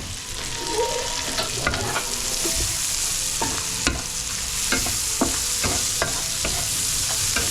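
Onion and garlic fry in a pan with a loud, continuous sizzle, broken by scraping stirs and clinks of a utensil close by.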